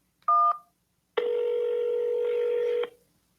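Telephone keypad tones on a call to an automated receptionist: one short dual-tone beep, a pause, then a longer steady tone lasting well over a second, clean and close against silence.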